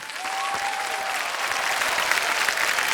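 A studio audience at a televised quiz show claps in a dense, sustained burst of applause, even and unbroken throughout with no speech over it.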